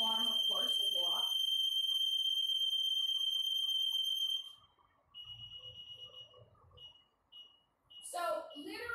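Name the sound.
alarm going off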